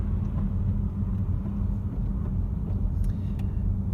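An electric Renault Mégane accelerates from 0 to 100 km/h, heard from inside as a steady low road rumble and tyre noise with a faint whine, with no engine roar.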